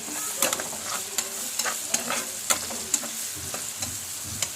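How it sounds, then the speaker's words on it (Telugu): Chicken fry being stirred in a pan after a quarter spoon of turmeric is added, with soft sizzling under repeated scraping and clicking strokes of a spoon, steady and close, no talking. "ఒక పావు స్పూను పసుపు వేసి మంచిగా తిప్పండి"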